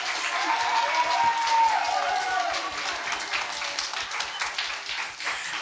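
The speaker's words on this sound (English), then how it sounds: "Let's give her applause." Audience clapping at a business event, a fairly dense wave of applause with some cheering, continuing steadily while a voice speaks faintly underneath.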